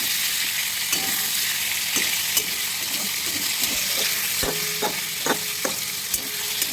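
Turmeric-coated food fries in plenty of oil in a pan, a continuous close sizzle and hiss broken by repeated spatula taps and scrapes as it is stirred, with no talking.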